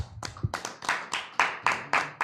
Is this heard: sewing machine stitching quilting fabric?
no